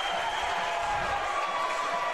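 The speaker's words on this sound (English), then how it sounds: "The crowd is going crazy for this University of Houston student." Crowd cheering and applauding for a climber who has just topped a problem in the final round of a collegiate bouldering national championship, a dense, steady roar of many voices filling the hall without a break.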